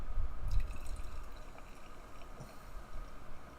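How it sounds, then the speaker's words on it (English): Taxman Brewing Bourbon Barrel Qualified beer pouring with a steady low gurgling splash and faint fizzing, close by and without talk. "let's pour this guy into a can and drink this goddamn thing."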